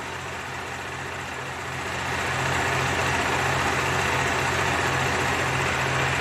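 A Bajaj Dominar 400 motorcycle engine idles steadily close by during a coolant change, with an even mechanical hum and hiss that swells slightly louder partway through and then holds constant.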